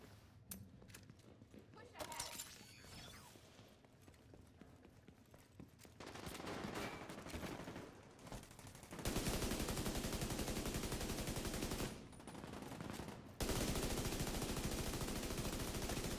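Sustained automatic turret fire in The Division 2's PvE Dark Zone, loud dense bursts from about nine seconds on with a brief pause near twelve, preceded by scattered gunshots and game noise.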